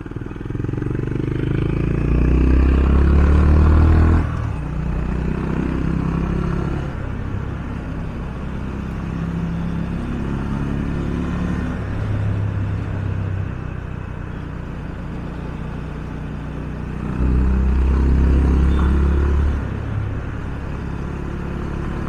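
A 2022 Honda CB350RS BS6 retro motorcycle engine runs steadily on a test ride, with a low, smooth rumble that swells at a couple of points as it accelerates, alongside wind and road noise.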